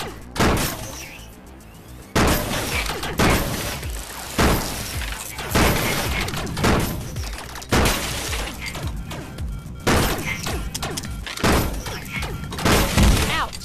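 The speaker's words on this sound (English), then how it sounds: "oh, a shotgun" Shotgun blasts in the video game Rec Room, a series of loud, sharp bangs, about one each second, each with a short crackling tail and a background of game noise.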